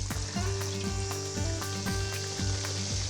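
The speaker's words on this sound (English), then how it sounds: "That's the sizzly sound I want to hear. That's how I know the oil's hot enough." Breaded chicken sizzles steadily as it fries in hot neutral oil over medium-high heat, a loud, constant crackling hiss close by with no voices.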